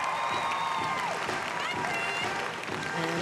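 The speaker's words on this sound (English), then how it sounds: "And a big cheer there" A home crowd cheers and applauds loudly and steadily for Australian gymnast Christopher Remkes at a gymnastics world cup finals, with whoops over continuous clapping and a commentator talking over it.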